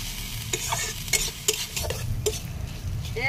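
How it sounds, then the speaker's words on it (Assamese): Golden shower flowers frying and being stirred in a pan, a steady sizzle under repeated scrapes and clinks of a utensil against the metal, close and fairly loud. "লৰাই লৰাই ভাজি থাকিম মই।"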